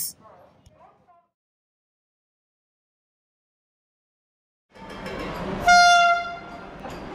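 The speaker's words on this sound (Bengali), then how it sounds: "যেখানে অমৃত ভারতকে ওভারটেক করলো পাটনা হাওড়া বন্দে ভারত এক্সপ্রেস।" A Patna-Howrah Vande Bharat Express pulls through an adjacent platform at Bardhaman station. After a stretch of near silence, a rumbling approach builds and a loud, sustained train horn sounds.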